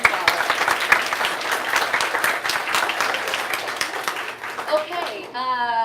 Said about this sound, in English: So give them another round of applause.